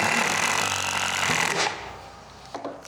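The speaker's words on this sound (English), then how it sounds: "We're just gonna drive a 3-inch screw." A Ryobi cordless drill drives a 3-inch screw into wood, a loud steady whir that runs for about a second and a half, then cuts off. A couple of faint clicks follow in the quiet.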